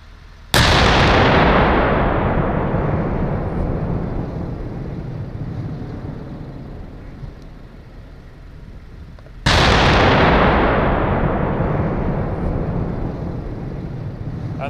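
A Swedish Armed Forces Archer self-propelled artillery system fires two rounds during a demonstration, each a sudden loud blast followed by a long rolling echo that fades slowly, about nine seconds apart, with no voices.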